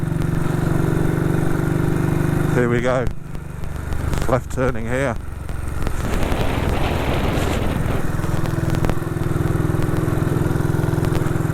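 A 1959 BSA motorcycle rides on a freezing day at minus three degrees Celsius, its engine droning steadily close by and dipping briefly around a turn while the rider speaks a few words over it.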